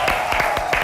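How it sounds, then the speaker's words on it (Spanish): An audience on a television show claps for the sponsor Huggies, with a few loud, evenly spaced claps in quick rhythm over a steady background tone. "Fuerte el aplauso para Huggies"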